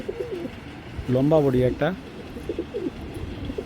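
Pigeons coo at a pigeon market in a short, clear burst of throaty cooing close by, with someone talking before and after it.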